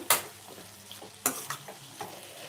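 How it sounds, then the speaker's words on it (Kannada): Ridge gourd stir-fries with tempering in a pan, giving a soft continuous sizzle broken by several sharp scraping clacks of a spoon against the pan, close and quiet, with no talk. "ಹೀರೆಕಾಯಿ ಹಾಗೆ ಫ್ರೈ ಮಾಡಿರ್ತಕ್ಕಂಥದ್ದು ಒಗ್ಗರಣೆ ಹಾಕಿ"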